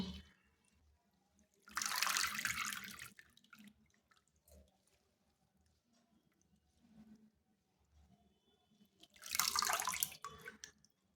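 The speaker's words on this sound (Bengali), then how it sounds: "এইভাবে আমি জল পাল্টে পাল্টে 3-4 বার ধনেপাতাটা ধুয়ে নিলাম।" Fresh coriander leaves are swished and rinsed by hand in a basin of water, with two loud bursts of splashing and pouring separated by quieter dripping and handling; no voices.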